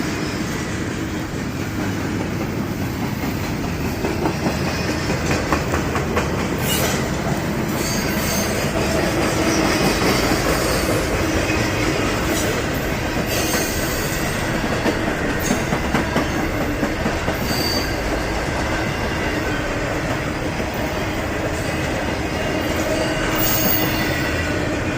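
A long train rolls steadily past a road crossing in Danville, its cars clattering with rhythmic clickety-clack and occasional wheel squeal, loud and continuous throughout without any talk.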